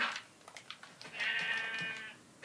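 A sheep in the Minecraft video game gives one clear, drawn-out bleat in the middle, near and moderately loud, preceded by short soft game clicks.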